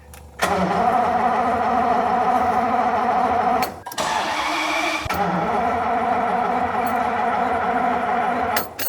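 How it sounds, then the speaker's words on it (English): A conventionally wired V12 engine cranks and fires, then settles into a loud, steady idle with a faint constant beat. It cuts briefly before restarting and running again. "I'm actually going to start a conventionally wired V12, and you can hear the difference."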